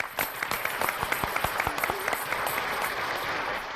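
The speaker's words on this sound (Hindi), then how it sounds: "तालियां।" A small group claps in quick, irregular applause, the crisp claps close at first and then blending into a denser wash before tapering off.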